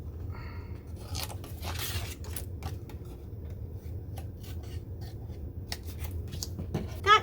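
Micro tip scissors snip through paper while scrapbook balloon shapes are cut, giving a run of crisp, close cuts and rustles with small gaps between them.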